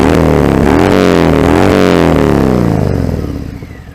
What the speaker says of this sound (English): Give it a couple of revs, it's quite loud.